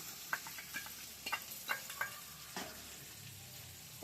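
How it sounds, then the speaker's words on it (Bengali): A paste of mustard, poppy seed and green chili fries in a pan with fried eggplant, making a soft sizzle broken by several sharp spoon taps and scrapes, quiet with no voices. "এই যে এখানে সর্ষে, পোস্ত, কাঁচা লঙ্কা একসাথে বাটা, এটা দিয়ে দিলাম"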